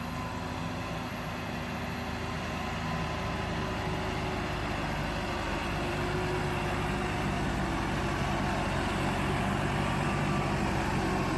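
A tractor towing a heavy trailer drones with a low, continuous engine rumble, loud and steady throughout, with a slight build in intensity toward the end and no voices.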